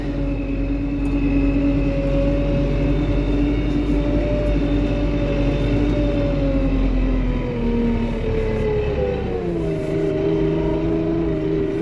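A Lovol P4110 tractor pulling a Lemken Opal 090 plough during autumn ploughing gives a steady, loud, close engine drone with a constant hum. Its pitch dips and shifts briefly near the end.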